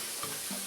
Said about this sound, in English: Let this all kind of sizzle together. This is just cooking a little bit of olive oil.